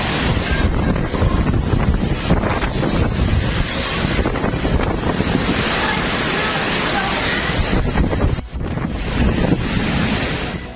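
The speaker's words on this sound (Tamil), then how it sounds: "பிலிப்பைன்ஸில் மணிக்கு 230 கிலோமீட்டர் வேகத்தில் வீசிய சூறாவளி." Strong cyclone wind at 230 km/h in the Philippines roars and buffets the microphone continuously, a dense broadband rush with a brief dip near the end, loud and close.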